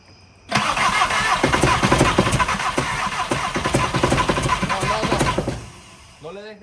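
A Volkswagen Rabbit truck with a 1.6 diesel engine and worn-out motor mounts cranks and catches, then runs with a loud, rough, clattering idle up close before dropping off near the end.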